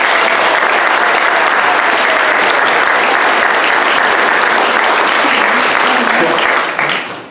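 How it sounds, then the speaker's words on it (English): Loud, dense applause from a festival audience in Monterey, California, many hands clapping steadily for several seconds before tapering off at the end. "Can we get a round of applause?"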